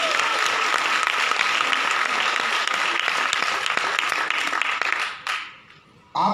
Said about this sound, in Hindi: एक बार ताली होनी चाहिए गोवा चीवर से।